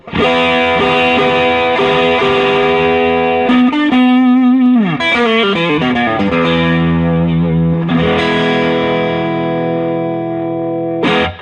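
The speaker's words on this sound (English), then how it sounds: "crank the amp all the way up, a lot more power amp type distortion, a little less bass" A Fender Blues Deluxe guitar amp cranked all the way up, an electric guitar played through it with thick power amp distortion and lighter bass, sustained chords and bends ringing loud and close.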